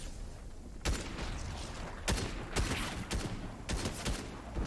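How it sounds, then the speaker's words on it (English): Gunfire in Fortnite rings out as about four sharp, loud reports at uneven intervals over a steady game background. "Getting shot to our right."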